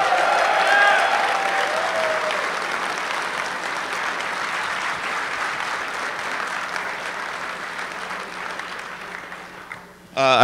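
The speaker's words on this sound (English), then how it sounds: "Let's give those guys a round of applause." Convention keynote audience applauding loudly, a dense wash of clapping that slowly fades over ten seconds before a sharp sound at the very end.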